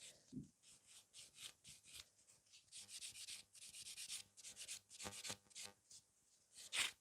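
Gel nails with only a top coat being buffed with a nail file, a close, soft scratchy rubbing in short repeated strokes with brief pauses, building denser toward the end.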